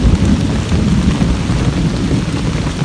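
Heavy rain pours steadily and loudly close by, a dense continuous roar with low thunder rumbling underneath throughout, no voices.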